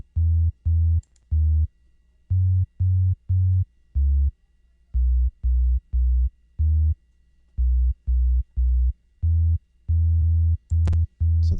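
Deep, smooth synth bass notes pulse in a steady rhythmic pattern, short and punchy with gaps of silence between them.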